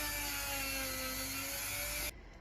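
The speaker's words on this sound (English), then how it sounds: "I'm using a wire brush on my Dremel." A Dremel rotary tool spins a wire brush to clean the seal seat on a Vauxhall, a steady high whine with a faint scratchy hiss that cuts off sharply after about two seconds.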